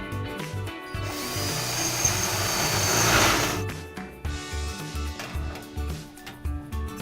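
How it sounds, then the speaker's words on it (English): A power drill bores a mounting hole into an elevator ceiling panel: a steady grinding whine builds for a few seconds, then cuts off, followed by short bursts of drilling. "Use the leg as a template and drill a new mounting hole."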